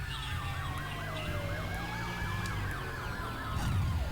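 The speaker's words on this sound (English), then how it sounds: "Oh yeah, for some reason the police chase you on this one." A police siren wails in a chase in the Runabout 3: Neo Age video game, its rising and falling tones cycling steadily over a low engine rumble, clear and fairly close.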